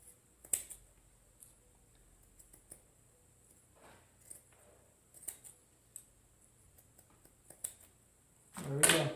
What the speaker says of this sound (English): I'm going to go ahead and just cut the edges just a little bit.